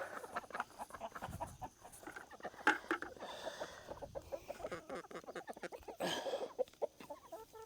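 Farm chickens cluck and call close by in an irregular, busy flurry around feeding time, with scattered bumps and movement noises.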